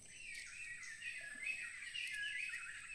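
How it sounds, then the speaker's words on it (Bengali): Birds chirp and twitter steadily in the Sundarbans mangrove forest, a continuous high chorus of small calls, fairly faint and distant, with no one talking. "চারিদিকে পাখির কিচির মিচির ডাক।"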